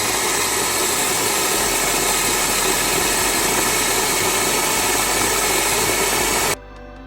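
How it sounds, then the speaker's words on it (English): A Capresso burr grinder, set between fine and medium, grinds coffee beans mixed with chicory in a loud steady whirring drone that runs unbroken for about six seconds, then cuts off abruptly. "This is a Capresso burr grinder."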